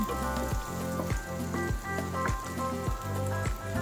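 Pancit canton noodles being stirred in a frying pan, giving a steady sizzle with soft rhythmic scraping strokes repeating about twice a second, close and continuous with no talk.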